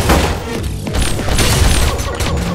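Reflector gun firing inside the shooter game Pixel Gun 3D, a dense run of heavy booming blasts and crashing impacts that fills the whole stretch at close, loud level with no pauses.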